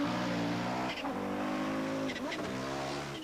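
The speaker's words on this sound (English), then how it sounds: "his Audi's wastegate chattering happily away" A 1985 Audi rally car driven by a driver on the RAC Rally: a loud, close engine revs and shifts, with fluttering turbo wastegate chatter between throttle changes, and commentary talk running underneath.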